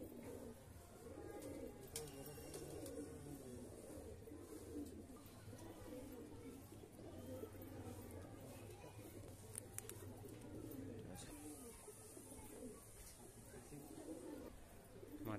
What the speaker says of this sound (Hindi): बहुत बढ़िया बढ़िया कबूतर आप लोग को शौक कर रहा हूँ भाई फ्लाई लाइन का